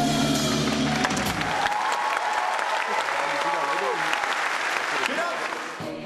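Concert audience applauding at a show in Plauen, Vogtland, a dense steady wash of clapping that holds loud throughout and fades slightly at the very end.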